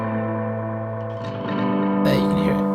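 A tape echo pedal on long feedback self-oscillates, sustaining steady droning tones that build, smear and swell louder into a harsh, shifting howl near the end, with no talking.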